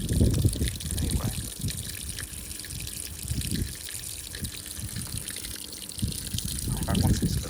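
A Simpson Model 164 washing machine fills with hot water on a whites normal cycle: a continuous rushing, trickling pour into the drum, close and steady, with low rumbling swells near the start and end.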